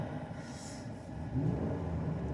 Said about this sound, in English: it revs up really nice